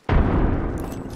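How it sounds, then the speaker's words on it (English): Frag grenade detonating in the Apex Legends video game, a single loud close boom with a sharp onset and a rumbling decay lasting about a second. "Throwing frag."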